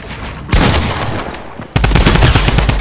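Bursts of gunfire in the Fortnite video game: a loud shot at about half a second followed by steady rattling, then a heavier, louder volley of rapid shots that continues to the end, with no talking.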